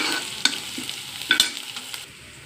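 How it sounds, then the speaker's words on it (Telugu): Onions and green chillies fry in hot oil in a pan, a steady close sizzle broken by a few sharp spatula scrapes and clacks, ending abruptly into quieter hiss. "ఫస్ట్ అయితే ఉల్లిపాయలు పచ్చిమిర్చి వేయించేస్తున్నానండి."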